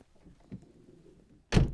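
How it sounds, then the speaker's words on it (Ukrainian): A 2013 Opel Vivaro 2.0 passenger van's soundproofed door shuts with a soft, muffled thunk near the end, after a stretch of quiet low rumble with a faint bump. "Тут навіть чути, як дверки закриваються"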